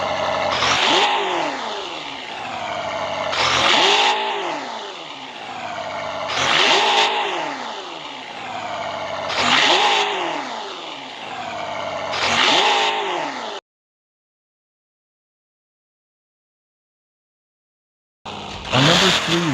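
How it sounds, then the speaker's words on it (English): A BMW M5 F90 V8 engine revs repeatedly. Five rising and falling blips come in a steady rhythm, then silence, then one more rev, loud and close. "Coming at number 4 is the BMW M5 F90."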